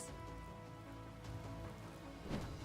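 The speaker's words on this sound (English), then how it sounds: "This rain." Steady rain patters down in Fire Emblem: Three Houses, a continuous wash of drops under a low drone, with a slightly louder burst near the end and no voices.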